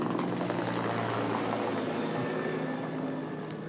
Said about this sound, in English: Comes another helicopter in, and these are also part of the arsenal as well.